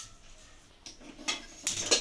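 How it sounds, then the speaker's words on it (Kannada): A cooking pot is set down on a kitchen stove: a faint quiet start, then a few close metallic clanks and scrapes of cookware bunched toward the end, with no speech. "ಮೊದಲಿಗೆ ಪಾತ್ರೆ ಇಡಿ"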